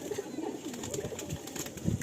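Pilanka pigeons of an ABC line coo steadily inside a breeding loft, several birds murmuring close together in soft overlapping rolls with a faint background hiss.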